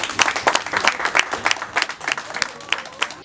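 A crowd at a UDPS party election for the inter-federal president of Grand-Kivu and Grand-Katanga bursts into sustained applause: dense, fairly close clapping that swells in uneven waves and keeps going.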